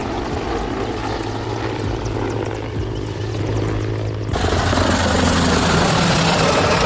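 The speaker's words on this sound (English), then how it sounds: "A 60 Black Hawk, a multi-role military helicopter adaptable for firefighting missions with external water buckets" A UH-60 Black Hawk helicopter's rotor chops steadily close by, a loud rhythmic thumping over a heavy engine drone that grows louder and brighter partway through.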